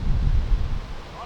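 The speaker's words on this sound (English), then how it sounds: "Got a really windy hole here." Strong wind gusts across an open disc golf hole at the European Open, a low rumbling buffet on the microphone that eases off toward the end.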